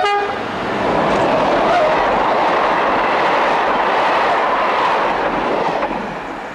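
SNCF BB15000 electric locomotive 15062 hauling a train from Charleville-Mézières toward Strasbourg in 1993, a broad steady roar that swells as it rushes past and then eases away, with no voices.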